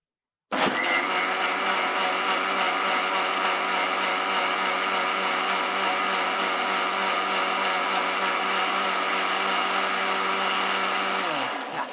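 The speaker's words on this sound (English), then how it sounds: "Just make sure that the lid is properly fixed and then you're going to blend it like this." A kitchen blender whirs loudly and steadily as it blends fresh juice with the lid fixed on, starting abruptly and running continuously at full power for about eleven seconds before cutting off.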